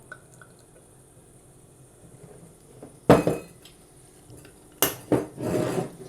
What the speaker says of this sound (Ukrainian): Наливаємо дегустаційну порцію.